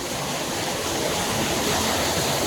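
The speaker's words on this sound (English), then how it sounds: "the water spout doesn't want to stop" Steady, loud rush of spraying water from a water spout at a Universal Orlando attraction fills the whole clip, a dense hiss gushing close by, with no voices.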